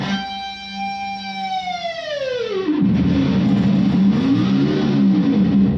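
An electric guitar's whammy bar bends a sustained note steadily downward into a low, growling, wavering rumble that mimics a roaring engine, loud and close.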